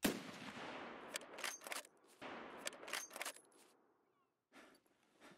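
Gunfire in the video game Escape From Tarkov: several sharp bursts of shots with echoing tails, loud near the start and then a quieter burst after a short gap, with no talking.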